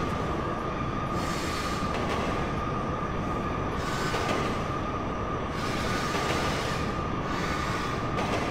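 A freight train in the video game GTA rumbles along steadily with a constant wheel roar and a faint high squeal running throughout, loud and continuous with no talking.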